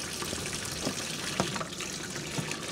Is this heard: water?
yes